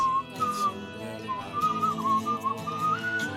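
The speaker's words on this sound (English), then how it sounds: "I need to whistle, it'll keep the spirits up and help us move faster" A melodic whistled tune from the video game Where the Water Tastes Like Wine, wavering up and down steadily for several seconds over a soft musical backing, with no talking.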